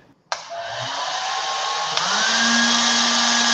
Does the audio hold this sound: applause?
no